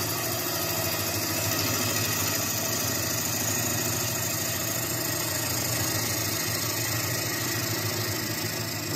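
A wood lathe spins a 14-inch bowl blank while a bowl gouge cuts into it, giving a steady, dense whirring rasp that holds unbroken and fairly loud from start to finish.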